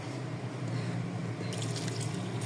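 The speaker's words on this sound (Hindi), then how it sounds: "तो बस मैं इतना डाल रही हूँ पानी" Water poured into a pot of lauki gosht (bottle gourd and meat curry), a soft continuous pouring splash that brightens partway through, close and fairly quiet.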